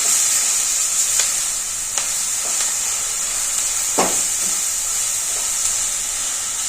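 Chili powder cooks in a pan of oil for a chickpea snack, giving off a steady, close hiss with a few sharp pops and stirring clicks scattered throughout.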